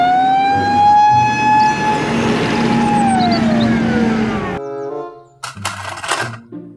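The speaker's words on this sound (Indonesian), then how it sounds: "Mobil truk pemadam kebakaran." A siren wails steadily with slowly rising and falling tones for several seconds, then cuts off abruptly, followed by a few brief clattering, electronic-sounding bursts.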